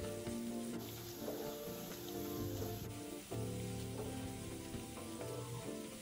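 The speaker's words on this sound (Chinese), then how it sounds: "100克小红葱片，冷油下锅，炉开中火，慢慢将葱片油炸至金黄色。" Red shallot slices deep-frying in plenty of oil over medium heat give a steady, dense sizzle that runs continuously and close by, with no voices.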